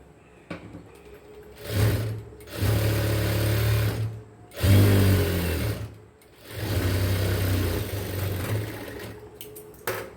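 Sewing machine stitching a straight line along blouse lining fabric, running in three long loud bursts of steady motor hum and needle clatter separated by brief pauses.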